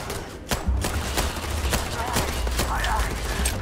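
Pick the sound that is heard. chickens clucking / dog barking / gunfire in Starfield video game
gunfire in Starfield video game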